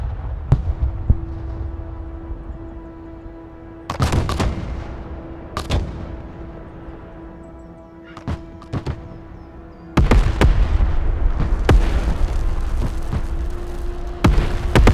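Artillery fire mission striking in the Broken Arrow war game: several heavy, sharp impacts and booming blasts in irregular bursts, some isolated and some clustered, over a low sustained drone, loud and close.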